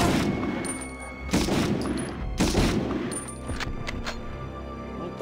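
Gunfire in the Medal of Honor video game. Loud bursts of shots recur over about five seconds, with dense, overlapping reports and no one speaking.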